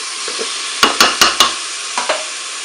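Spoon stirring crumbled beef bouillon cube in a Cookeo multicooker pot, four quick close scrapes followed by two lighter ones over a steady hiss, no talking.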